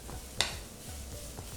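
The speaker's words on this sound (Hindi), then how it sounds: "3-4 मिनट तक प्याज को भूनते हैं।" Ground raw onion paste frying in a pan while being stirred, a soft steady sizzle with one sharper scrape of the spoon early on, quiet and close with no talking.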